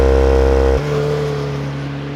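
A Volkswagen Golf R with a 7-speed dual-clutch gearbox launches hard: a loud, steady, held engine note cuts sharply into a lower, rising drone as the car pulls away, close up with no talking.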